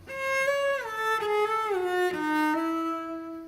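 A cello slides gradually down from a high position, stepping through a harmonic A with the third finger in a smooth, slurred descending line, bowed, close and clear.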